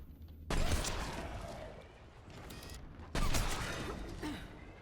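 Two heavy, hard-recoiling gun blasts from Mass Effect 3 on Insanity difficulty, each a loud sudden burst with a long decaying tail, spaced a few seconds apart.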